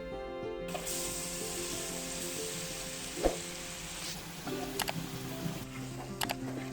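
Continuous close hiss of marinated chicken frying in hot mustard oil in a kadai, with a few sharp pops and spatters and faint clinks of a utensil.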